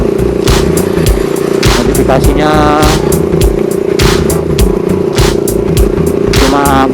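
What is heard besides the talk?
lightly modified motorcycle riding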